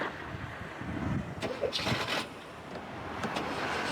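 A Timor car engine runs and is revved on a cheap used-car lot. The body is shabby but the engine is in good shape. A broad, steady engine roar with wind noise, swelling a little midway.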